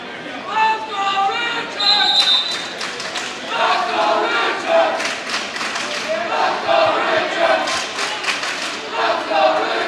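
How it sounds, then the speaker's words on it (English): Crowd at a college wrestling match between Milton and Oregon yelling and cheering for a wrestler, loud, rising and falling in waves with chants and shouts. "You can hear the crowd yelling for Richards' name."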